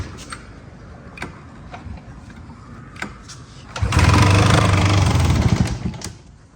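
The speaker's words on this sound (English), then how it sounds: "Wonder if we can pull start it." A clapped-out Polaris Sport 400 snowmobile engine is pulled over with a few scattered tugs, then catches and runs loud and raspy for about two seconds before dying back down.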